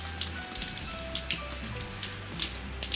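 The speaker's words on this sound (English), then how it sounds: "It's actually raining now. Morning rain." Morning rain in Cambodia patters steadily on surfaces, with scattered louder drops tapping through a continuous soft hiss and a low background rumble.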